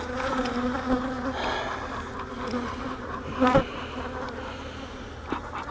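Honey bees buzz in an opened hive during an April inspection, a close steady droning hum with individual bees swelling nearer and passing, no voices.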